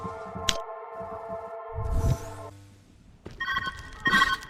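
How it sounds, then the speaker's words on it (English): A steady electronic ringing tone in the puzzle video game Viewfinder, sustained beeping pitches that stop and return a few seconds later, fairly quiet amid soft ambient game sounds. "Where's that ringing coming from?"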